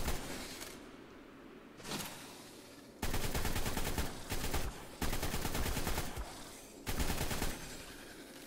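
Gunfire in the video game Ark: Scorched Earth aimed at a mantis, with several loud sustained bursts of rapid shots separated by brief pauses.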